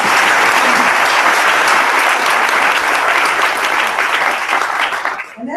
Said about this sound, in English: go ahead and clap